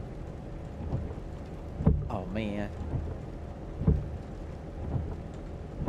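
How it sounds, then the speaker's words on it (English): Steady rain falls on a 2005 Volvo S60R in a Japanese setting within a driving simulator game, a dense continuous hiss with a few low rumbles; a man's brief exclamation cuts through partway. "And it's raining pretty cool here in Japan."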